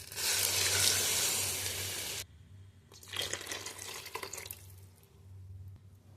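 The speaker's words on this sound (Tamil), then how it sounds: "தண்ணி தேவையான அளவு தண்ணி ஊற்றிக்கணும்." Water pours from a tap into a pot of tomato sambar, a loud rushing splash for about two seconds, followed by quieter bursts of bubbling and sizzling.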